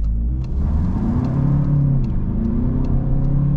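A diesel Volkswagen Passat 1.6 TDI pulls away hard from a standstill in sport mode with the windows closed, its engine note rising in a steady, loud rumble heard from inside the cabin, with no talking.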